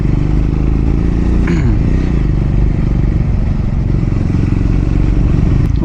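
A Triumph Scrambler 400X motorcycle rides along in fourth gear at low speed, giving a steady close engine rumble mixed with heavy wind buffeting and a brief rising whine partway through.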